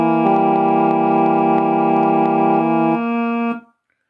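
A piano plays a sustained chord imitating a V-Class ferry's pull-cord horn. The notes ring steadily for about three seconds, with some tones dropping out before the whole chord fades.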